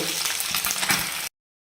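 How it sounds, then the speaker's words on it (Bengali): A dense, hissing sizzle of small puti fish frying in hot oil fills the clip briefly, then cuts off abruptly into silence. "মাছটা ভাজা হয়ে গেছে এবার উঠিয়ে নেব"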